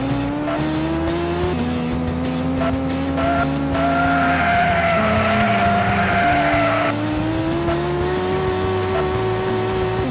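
Racing cars in a Sega Dreamcast racing game demo drone on with a steady, loud engine whine whose pitch shifts up and down through gear changes, with a stretch of tire squeal partway through and no talking.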